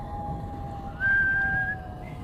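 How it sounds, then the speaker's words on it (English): A single steady whistled note sounds briefly, held for under a second over a quiet background hum. "As Ichabod approached this fearful tree, he began to whistle."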